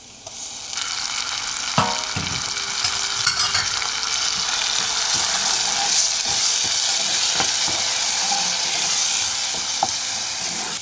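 Onion and ginger frying in a pan with browning garlic, a steady loud sizzle running throughout with a few stirring scrapes and knocks, no voices.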